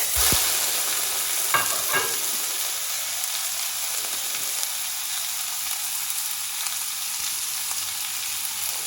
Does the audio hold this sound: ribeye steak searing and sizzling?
yes